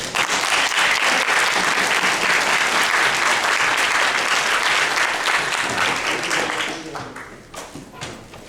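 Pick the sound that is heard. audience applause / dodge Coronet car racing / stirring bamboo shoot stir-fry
audience applause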